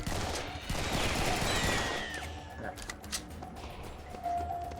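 Rapid machine gun fire in the shooter Serious Sam 3 BFE, a loud dense rattle of bursts for about two seconds that then thins into scattered shots, with people talking over it.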